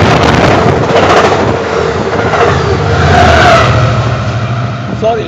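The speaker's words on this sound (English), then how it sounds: "Damn, truck must have gone 70 miles an hour." A truck speeding past at about 70 mph, heard as a loud continuous roar mixed with heavy wind buffeting on the microphone, swelling and fading over several seconds.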